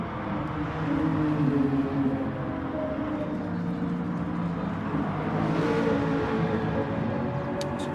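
Racing cars drifting around a track in a Gran Turismo video game: a steady, moderately loud engine drone with shifting tones and a faint tyre whir, continuous throughout with no talk.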